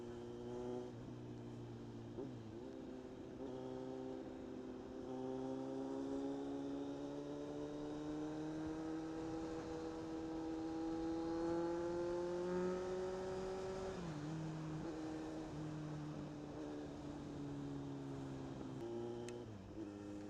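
A Kawasaki Z900 inline-four motorcycle engine hums steadily under way, its pitch climbing and dropping through gear changes around the 2, 14 and 19 second marks, a smooth continuous drone heard from the rider's position.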